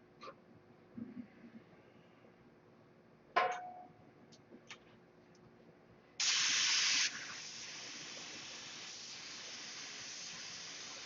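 A paint spray gun lays a second coat on an aircraft elevator stabilizer, starting with a loud close hissing burst and then settling into a steady continuous spray hiss, after some faint ticks and handling noises.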